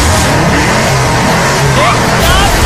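A car in the video game Left 4 Dead 2 revs hard and takes off, with a loud, continuous engine roar and rush of noise under excited voices.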